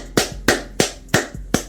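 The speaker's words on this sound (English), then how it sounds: "booty clapping sounds." Five loud, sharp claps spaced evenly about a third of a second apart, each a crisp broadband smack with a short tail, standing alone with no talk.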